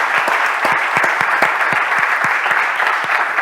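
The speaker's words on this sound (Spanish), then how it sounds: "Let's give the Lord a hand." A church congregation at a bilingual Spanish-English service bursts into dense, loud applause, many hands clapping close together in an even, sustained roar with sharper individual claps popping through.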